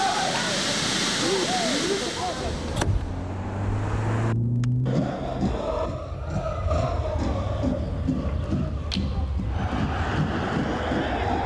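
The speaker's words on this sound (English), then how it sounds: "The new Renault Megane RT Sport." Renault Megane RT Sport car in a TV advert, heard as a continuous rushing road and engine sound with a brief tonal engine sweep, steady and fairly loud throughout.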